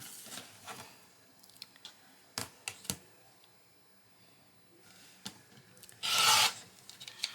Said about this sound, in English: Next, we're going to cut on the marked line.